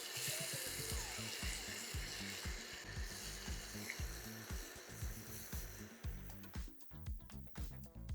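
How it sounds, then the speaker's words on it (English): Onions frying in butter in a pan over lowered heat, a continuous soft sizzle with a rhythmic thumping of stirring or handling throughout, growing sparser toward the end. "throw in about 2 tablespoons more of butter and all our onions"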